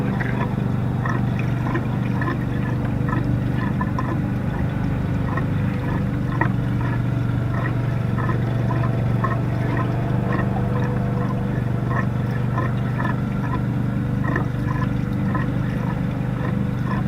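Diesel fuel pours into the tank of a gas motor with a steady, continuous gurgling and sloshing. The sound stays close and even throughout, with no talking.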